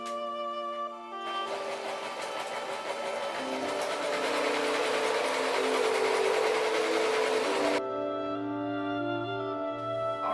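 A sewing machine stitches fabric in a steady, buzzing run lasting several seconds, starting and stopping abruptly, heard close and fairly quiet against a faint background tone.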